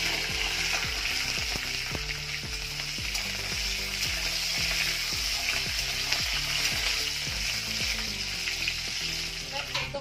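Green chilies and whole cumin sizzle steadily in hot oil while cooking spinach with boiled potatoes, a dense continuous crackle with faint rhythmic background music running underneath throughout.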